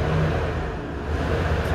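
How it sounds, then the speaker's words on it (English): A 15 passenger van engine with about 201,000 miles runs close by, a steady mid-range rumble with slight rise in revs, alone without talk. "Let's hear this engine."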